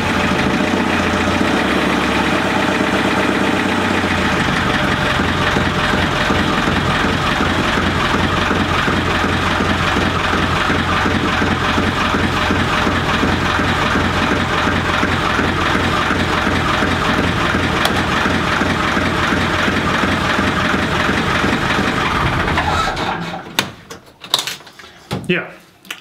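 A Ford 2712E marine diesel engine runs steadily in a harbor with a low rumbling idle for a long stretch, then cuts off, leaving a few scattered knocks and clatters.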